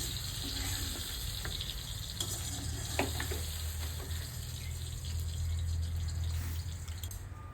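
Silver carp fish fry in oil in a black iron pan, giving a soft, steady sizzle with scattered pops and crackles and no talking.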